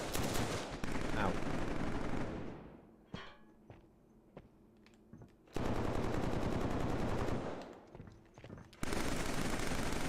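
Rapid automatic gunfire from a gun in the video game Killzone 3, loud sustained bursts broken by a quieter stretch with a few isolated shots, then firing resumes twice and runs to the end.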